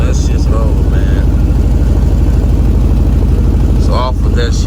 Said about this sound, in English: Got the exhaust all done. I'm running dumps right now, but it's a little too loud for me